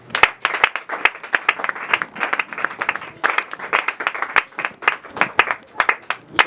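A church congregation applauding, a dense run of sharp, close handclaps with an uneven rhythm that carries on steadily for several seconds, with a faint murmur of voices underneath.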